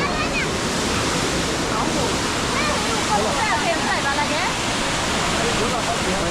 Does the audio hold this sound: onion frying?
no